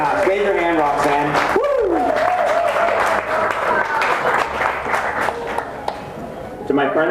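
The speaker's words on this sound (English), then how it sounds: "Can we get a round of applause to Rosa, please?" Wedding reception guests clap and cheer, with loud whoops and voices riding over sustained applause that continues throughout.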